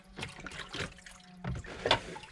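Water sloshing and splashing into a fine gold recovery sluice, several faint irregular splashes and gurgles spread across a couple of seconds.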